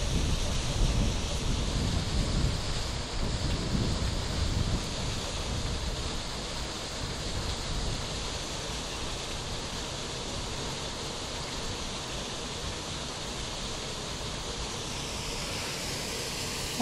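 Strengthening wind at a dam during a fishing trip, a constant rushing roar buffeting the microphone, gustier and louder at first and then settling into a steady blow, with no voices.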